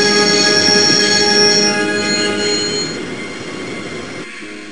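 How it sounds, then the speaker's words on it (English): A train in the Broken Sword: The Shadow of the Templars PC game brakes to a stop, its wheels giving a loud, sustained metallic squeal over rumbling that gradually fades before cutting off abruptly near the end. "I always wanted to stop a train,"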